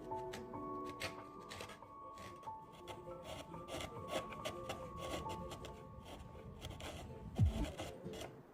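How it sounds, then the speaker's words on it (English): A sharp chisel pares and scrapes across wood during an acoustic guitar build, giving quiet, close rasping strokes in short, uneven bursts. Faint shop noise sits underneath, and one brief knock lands near the end. "I'm just going to use a chisel."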